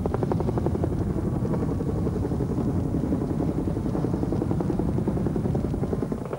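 Giant Mil Mi-6 helicopters fly over a blazing gas well fire, their rotors a steady, loud, dense thudding roar that holds constant throughout with no voices.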